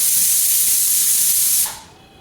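A home pressure cooker vents steam in a loud, steady, close hiss that holds for over a second and then drops off sharply, leaving a faint residual hiss.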